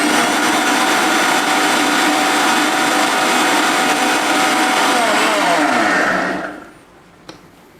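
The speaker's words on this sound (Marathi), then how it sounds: "अजून एकदा याला मिक्सीमधून बारीक करून घ्या." A mixer grinder whirs loudly and steadily as it blends a dates milkshake with cardamom powder, a close, continuous motor roar that winds down to silence near the end, followed by a single faint clink.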